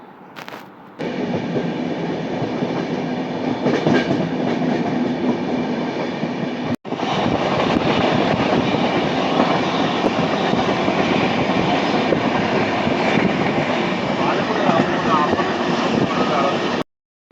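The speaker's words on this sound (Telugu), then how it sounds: "సూపర్ ఫాస్ట్ ఎక్స్ప్రెస్ ఇది. ఎక్కేసాం ట్రైన్లోకి." A superfast express train runs on rails between Nellore and Gudur, heard from inside the coach as a loud, steady rumble with rhythmic wheel clatter, briefly cut off and then resuming.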